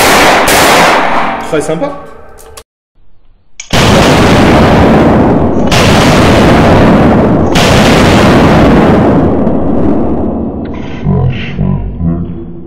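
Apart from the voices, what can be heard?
rapid fire from a Smith & Wesson 686 .357 Magnum revolver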